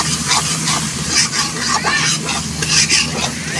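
Mustard paste is stirred into chapila fish in a hot pan, giving a close, loud sizzle with repeated scraping stir strokes in an uneven rhythm and no talking.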